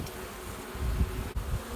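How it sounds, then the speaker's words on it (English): Honeybees from a nucleus colony buzz steadily close by, a dense continuous drone with a few louder swells as bees pass near. "You just don't know how much this goes against my survival instinct up here messing with these bees."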